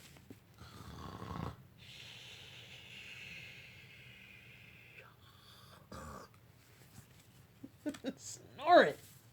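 A storyteller imitates snoring with drawn-out breathy rasps and hisses, a few slow cycles delivered close and fairly quiet, ending in a sharper whistling squeak.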